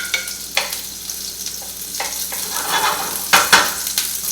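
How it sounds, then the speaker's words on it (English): Chopped onion sizzling in a pan as an omelette gets started, with steady broadband frying hiss and a few louder scraping stirs near the middle and end, close and without talk. "going to add some of the onion because we want to cook that up a little bit"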